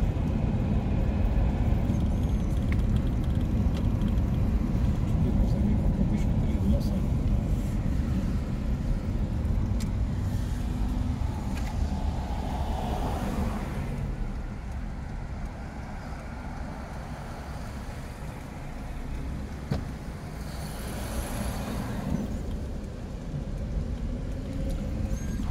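A car driving along Pesochnaya street in Izhevsk, a steady close engine and tyre rumble with road noise that rises and falls slightly as it moves, continuous for about twenty-five seconds with no talking.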